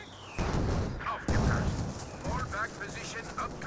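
Smoke barrage artillery in Company of Heroes 2 thuds in several heavy bursts, the strongest two near the start, over a busy battle mix with someone talking throughout.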